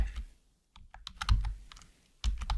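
Close, crisp keystrokes on a computer keyboard typing a short word into a thumbnail design program, a few irregular taps broken by brief pauses, clear and alone with no voices.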